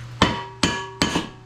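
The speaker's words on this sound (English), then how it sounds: "Guess we're just gonna take our dead blow hammer and try to tap this thing in." Three dull, solid dead blow hammer taps spaced evenly apart, tapping a part on a dump truck hoist cylinder, the last with a small rebound, close by and with no talking.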